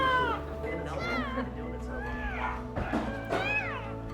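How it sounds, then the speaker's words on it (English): Newborn puppies from a litter of seven whimper and squeak in a vet clinic, several thin rising and falling cries close by, with people talking over them. "When you hear that noise of those puppies,"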